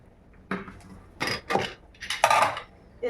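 Fried potatoes tumble into a large bowl while mutton biryani is being layered, giving several separate clinks and scraping clatters of utensil against the dish, close and moderately loud, with no talk.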